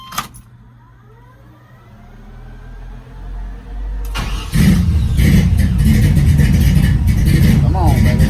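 A cold V8 in an S10 pickup with no mufflers cranks and catches about four seconds in, then settles into a loud, raw, steady idle; a brief sharp knock comes first and a voice speaks before the start.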